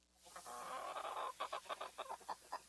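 Backyard chickens cluck in a quick series of short, evenly spaced calls after a brief rising cackle, fairly close and clear with no talking.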